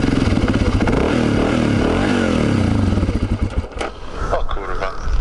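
A supermoto motorcycle engine runs loud and close at idle with a lumpy, uneven beat, then falters and sputters toward stalling near the end while someone talks over it.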